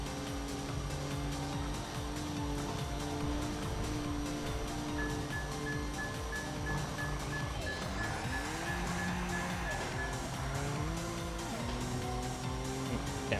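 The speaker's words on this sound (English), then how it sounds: "Downshifted one too many times." In Assetto Corsa, a race car engine screams through a downshift, its loud continuous howl dropping then climbing in sharp stepped pitch changes amid tyre squeal, with no voices over it.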